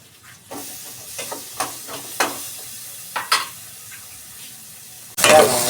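Onion, garlic and ginger go into a hot pan together for chicken tinola. A few light scrapes and taps of stirring come first, then a sudden loud, close sizzle erupts and holds to the end.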